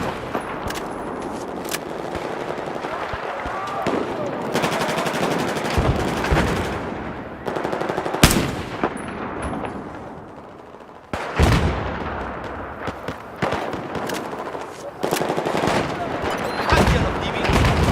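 Gunfire in Battlefield 4 multiplayer combat, with repeated loud bursts of automatic rifle fire and sharp single shots spread across a long, busy firefight, plus occasional heavier impacts and scraping.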